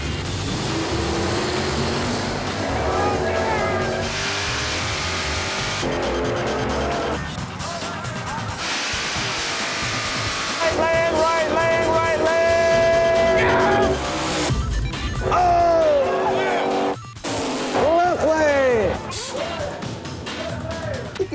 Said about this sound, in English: My dad used to drag race my uncle back in the 60s and 70s out at this track. In this lane, we have Tom in the 80 Camaro